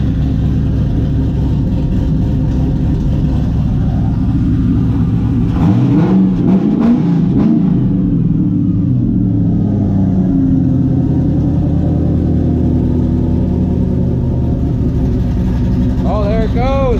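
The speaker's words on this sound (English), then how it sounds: "Damn, this thing is so loud. I really need the idle to come down" A cammed 4.6 V8 in a New Edge Ford Mustang drift car idles loudly with a steady low rumble throughout, swelling into a brief rev in the middle, while people talk over it.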